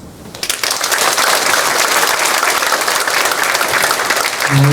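A church assembly audience breaks into sustained, dense applause after a candidate's speech at a denominational election forum, the clapping steady and full for several seconds.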